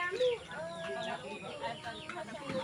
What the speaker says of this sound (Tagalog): may nakita akong pangsabong na manok, mukhang pwede na